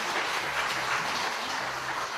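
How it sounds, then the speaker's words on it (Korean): Steady, fairly soft applause from an audience thanking professor Hong Yun-gi after a lecture, a continuous wash of clapping without voices. "정말 열강을 해주신 홍윤기 교수님께 다시 한번 박수 부탁드리겠습니다."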